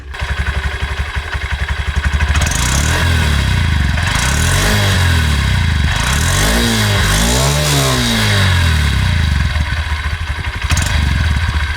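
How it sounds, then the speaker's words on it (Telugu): Close exhaust of a 2025 Honda Livo 110 motorcycle revs up and down repeatedly, the smooth engine note rising and falling over a steady idle throb. "చాలా స్మూత్ అండ్ రిఫైన్డ్ సౌండ్ ఉందన్నమాట ఎగ్జాస్ట్ది కూడా"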